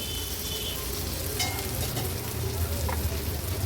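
Surmai (kingfish) pieces finish frying in a pan over low to medium flame in Agri-Koli style cooking, a soft, even sizzle with a few light scrapes, close and continuous without speech.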